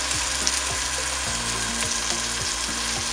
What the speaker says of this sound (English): So I have my peppers sauteing up. I'm now gonna add my orange sauce down in here.